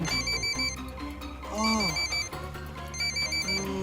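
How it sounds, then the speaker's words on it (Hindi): A phone ringtone plays a repeating electronic melody in short bursts, fairly quiet and clear, with brief pauses between phrases. "मैडम का फोन।"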